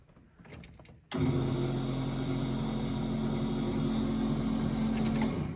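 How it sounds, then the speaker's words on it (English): An electric fuel pump priming on a 1981 Twin Turbo Malibu with a dry fuel system: after some faint clicks, a steady, droning electric whine starts abruptly and holds at an even level. "fuel pump is priming now because we got the grounds correct"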